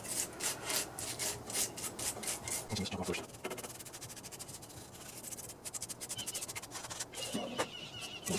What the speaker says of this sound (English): This is just a little nylon brush.